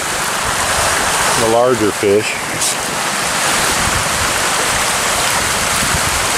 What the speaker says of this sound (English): I can hear by the waterfall sound that he started feeding